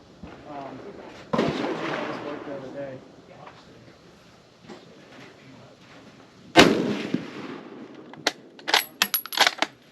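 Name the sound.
rifle shot from Czech VZ-24 Mauser, 8mm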